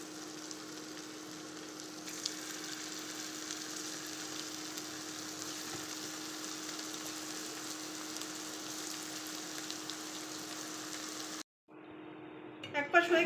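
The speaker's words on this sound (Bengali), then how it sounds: "চিপসগুলো ভেজে নেব।" Sliced half-moon potato chips fry in hot oil with a steady, even sizzle that holds for about eleven seconds, then breaks off into a short silence before louder bubbling and crackling returns at the end.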